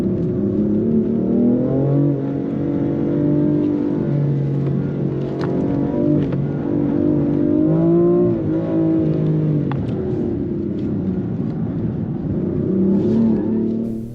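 BMW M4 G82 and M4 F82 cars accelerating hard side by side in a drag race, the older F82 running a 3-liter turbocharged six-cylinder S55; a continuous loud engine roar with rising and shifting pitch through gear changes, close and without talk.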